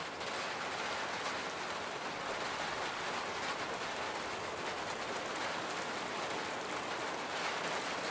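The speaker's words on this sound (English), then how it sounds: "It has basically been raining for 24 hours straight." Steady rain falls for the whole stretch on the Isle of Skye in Scotland, a dense, even hiss of drops hitting surfaces at constant loudness with no pauses and no voices.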